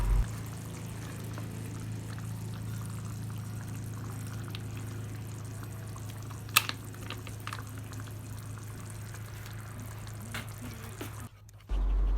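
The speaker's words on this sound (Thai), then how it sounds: "นั้นเราก็ใส่น้ำมะขามเปียกลงไปค่ะ" Ready-made tamarind juice poured into pork satay sauce, a quiet liquid pour over a steady low hum of cooking, with a brief clink partway through.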